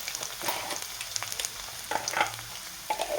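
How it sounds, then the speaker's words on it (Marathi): Garlic frying in hot oil for a Marathi dal tempering, a close steady sizzle with intermittent stirring scrapes and small clinks. "तर अगोदर आपण लसूण छान तळून घेऊया"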